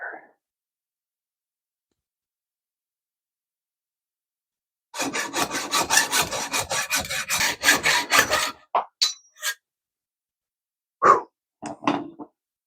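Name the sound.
cutting a bike part held in a vise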